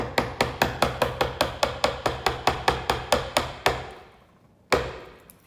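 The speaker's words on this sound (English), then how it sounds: "hold it vertically, lightly tap, and go straight down" A chisel is tapped lightly with a hammer into a scribe line while cutting a rebate for a lamp project: about sixteen crisp, evenly spaced knocks in a steady rhythm, then a short pause and one final tap.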